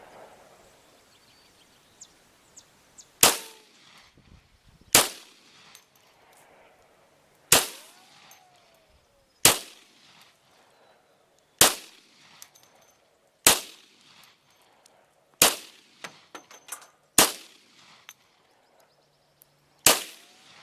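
A Glock model 40 pistol fires a series of about ten loud, sharp, close gunshots spaced a second or two apart at an outdoor range, each with a brief ringing decay.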